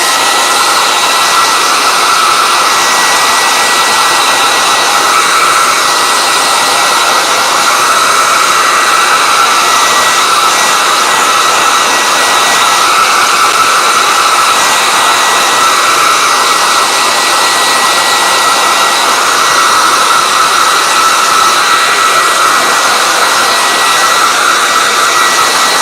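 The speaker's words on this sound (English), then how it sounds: "let me blow dry this." A hair dryer blows steadily on a sketchbook page, a loud, continuous close-up whir with a high whine that holds unbroken for the full stretch and has no voices over it.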